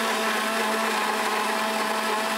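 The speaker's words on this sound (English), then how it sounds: "we are going to close our blender and start blending" A kitchen blender runs steadily, blending lemon and water into a drink, with a loud continuous whirring motor drone throughout and no talk.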